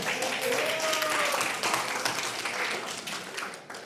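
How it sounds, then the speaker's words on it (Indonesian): An audience gives steady applause at a live student organization event in Indonesia, a dense clatter of many hands clapping throughout, slowly thinning toward the end. "beri tepuk tangan untuk Fatan."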